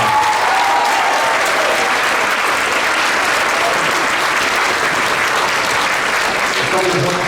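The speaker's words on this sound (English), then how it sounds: "One more big round of applause for Colin." An audience at a middle school eighth grade band concert claps loudly and continuously for a soloist, a dense, even wash of applause that holds steady throughout.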